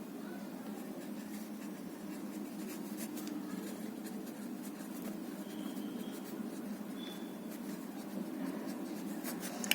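A pen or marker scratches steadily across paper while a Class 10 maths equation is written out by hand, a soft, close, continuous scribbling with small pauses and no speech.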